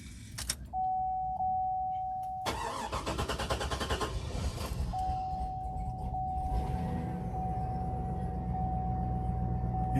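A 2004 GMC Yukon Denali starts up with a short cranking burst into a steady idle, a chime tone sounding before and after, close and loud with no talk.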